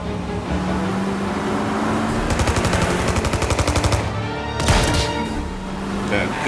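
Gunfire in Mafia Definitive Edition, a rapid burst of repeated shots lasting a couple of seconds, followed by a single loud crack, heard over a busy background with a car and some talk.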